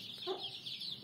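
A hen clucks softly while tending her chicks, giving a few short, faint calls that are close by and alone.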